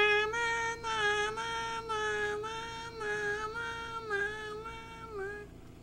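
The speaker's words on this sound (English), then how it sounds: "Their ambulance horn in Germany sounds like this." A German ambulance two-tone horn wails steadily and clearly, alternating pitch in a regular up-down pattern, fairly close and with no talking over it.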